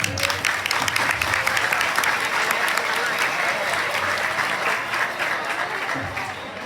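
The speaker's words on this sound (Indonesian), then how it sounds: "Tepuk tangannya lah." Sustained applause from a school audience at an Isra Mi'raj gathering in Ciledug, a steady wash of many hands clapping at moderate volume that tapers slightly toward the end.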